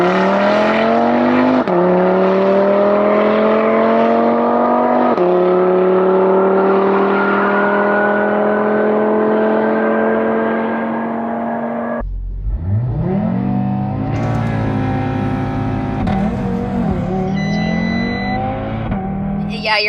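Audi TT RS launching hard on a private airstrip, heard from inside as the engine climbs steadily through each gear with loud rising tones, then drops off and revs again with clicks and whirring.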